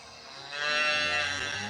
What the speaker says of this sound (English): Oh, cute little moo.